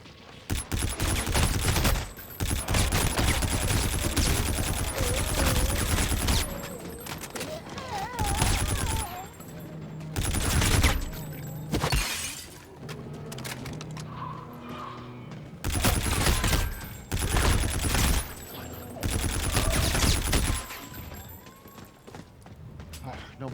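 Rapid bursts of gunfire and explosions from Call of Duty: Infinite Warfare Zombies on PS4, loud and repeated in clusters throughout, with game music and effects filling the gaps.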